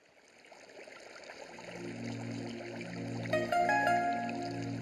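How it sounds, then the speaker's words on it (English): Flowing water trickles and burbles, building in volume as a steady tonal hum rises underneath; brief bright chiming notes appear near the end. "Oh, now it sounds like Minecraft water."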